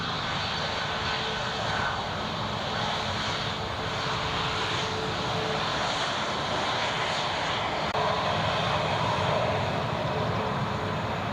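A TUI passenger jet taxis at Newcastle International Airport, its engines giving a steady, loud, broadband roar and whine that holds evenly throughout.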